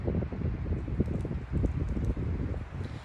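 Steady gusty wind rising in a forest, roaring through trees, a broad rushing noise with rustling surges that rise and fall throughout.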